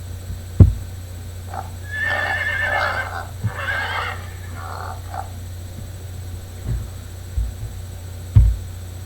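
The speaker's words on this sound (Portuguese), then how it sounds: "O próximo são os dois ao mesmo tempo, o cavalo e o porco." A horse neighs and whinnies in two loud bursts, with sharp knocks and thumps before and after and a steady low hum underneath; a pig is meant to sound at the same time but is not clearly separate.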